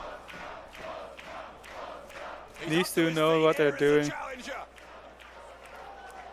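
A German Westside Xtreme Wrestling crowd roars and chants loudly for a few seconds, rising over close commentary talk and then fading back under it.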